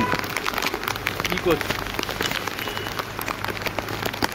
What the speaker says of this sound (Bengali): বৃষ্টিতে ভিজে ভিজে বাজার।